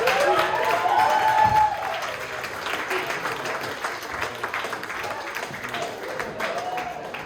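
Comedy club audience applauding after a stand-up set, a steady wash of clapping with some cheering near the start that holds loud then eases slightly and continues.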